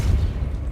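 A Repulso spell is cast in the video game Hogwarts Legacy, producing a short, loud, low booming blast with a rumbling tail that fades within a second.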